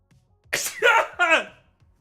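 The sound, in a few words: sneeze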